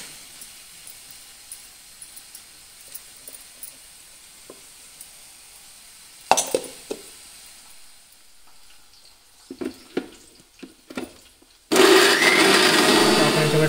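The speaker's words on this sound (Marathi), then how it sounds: "मग ते भाजीचं काय करायचं, मग मिक्सरला लावायचं" A mixer grinder grinding masala paste for Konkan-style jackfruit curry roars on suddenly near the end and runs loud and steady, after quieter kitchen handling knocks.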